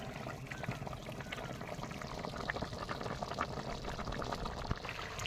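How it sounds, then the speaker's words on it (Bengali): Tengra fish curry simmers in a covered pot, giving a soft, continuous bubbling and hissing at a low, steady level with no voices. "তো চলো ঢেকে দিলাম, কমপ্লিট হোক, তরকারি ফুটতে থাকবে,"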